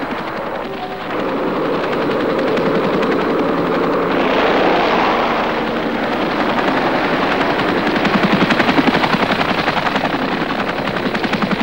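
A Bell Huey helicopter roars close by with a heavy, rapid rotor chop, loud and steady throughout, with no voices.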